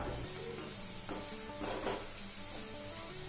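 Vegetables frying in a pan on high flame in a home kitchen, giving a loud, steady, close sizzle that runs throughout, with faint stirring textures and no talking.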